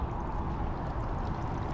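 Water gushes out of the wheel hubs of a boat trailer during a freshwater and salt flush, a steady close rushing pour with a low, continuous rumble and no break and no talking.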